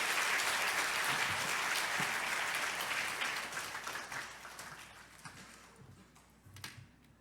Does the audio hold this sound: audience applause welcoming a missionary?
yes